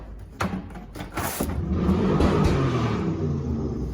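A car engine roars up and revs loudly nearby after a few clunks, then holds a steady rumbling drone.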